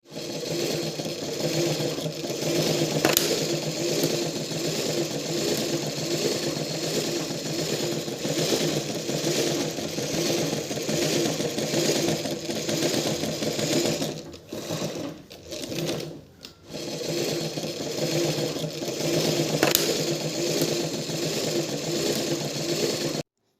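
A sewing machine runs steadily while stitching a cut underskirt, its fast mechanical whirr close and continuous, with a couple of brief pauses near the middle before it resumes at full speed.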